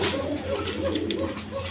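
Iranian racer pigeon cooing in a couple of soft low throaty phrases amid constant loft background noise.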